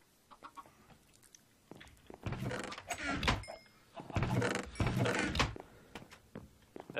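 Chickens clucking in the game Minecraft, a busy run of rapid clucks and squawks that swells through the middle and then thins out, with faint game noises around it.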